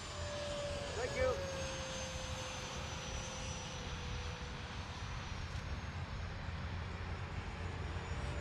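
RC F-22 model jet with a 64mm electric ducted fan making a low pass, a faint steady whine drifting slightly in pitch over distant ambient noise, no talk heard.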